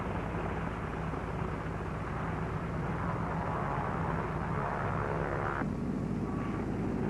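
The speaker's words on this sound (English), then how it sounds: "Navy F-6F mother control planes are catapulted from the carrier's flight deck" Navy F6F planes catapulted from the flight deck of the aircraft carrier USS Shangri-La at sea, a steady loud roar of aircraft engines with broad rushing noise and a sudden shift in tone partway through.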